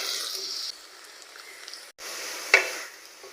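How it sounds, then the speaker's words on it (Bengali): Chopped onion and garlic frying in hot oil, a soft steady sizzle with stirring scrapes and a brief pause, close and moderately quiet. "পেঁয়াজ আর রসুন লাল লাল করে ভেজে নেওয়া হয়ে গেছে"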